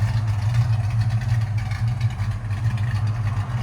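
A 1969-1978 Ford Mustang Mach 1 V8 idles nearby with a steady, deep, lumpy rumble that holds an even level throughout.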